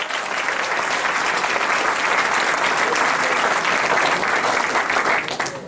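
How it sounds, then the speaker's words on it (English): A large audience at an institute event breaks into loud, sustained applause as a speaker is welcomed, dense steady clapping that holds for several seconds before tapering off at the end. "The great Jagat Shah, please welcome him with big round of applause."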